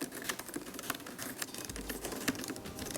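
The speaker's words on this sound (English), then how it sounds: "so when I type, I'm pushing very hard on the keys" Keys clatter on a 2018 MacBook Pro keyboard, typed hard and aggressively, a quick, irregular run of light clicks and taps at close range with a faint background hiss and no talking.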